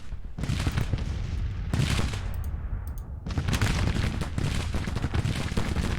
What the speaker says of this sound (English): Some counter battery fire happening both ways, I think.